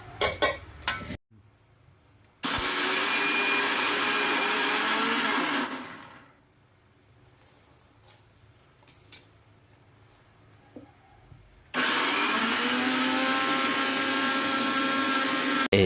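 A kitchen mixer grinder churns soaked lentils into batter for paruppu urundai. Two long, loud, steady whirring bursts are split by a quieter gap with small clinks and knocks of the jar.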